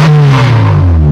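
A car engine revs loudly and close as the accelerator is pressed, a strong mid-pitched drone whose tone glides downward across a single brief rev.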